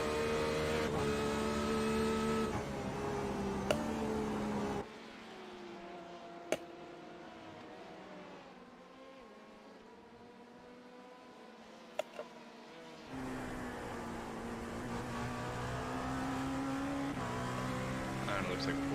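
Race cars in a sim racing video game run on track, a steady layered engine drone that drops to a quieter stretch in the middle before rising again, with a few brief sharp clicks and no talk.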